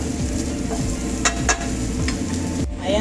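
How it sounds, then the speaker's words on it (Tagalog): Shrimp and vegetables sauté in butter in a pan, with a steady close sizzle and quick stirring scrapes, loud and continuous with no one talking. "Ginisa ko lang sa butter guys."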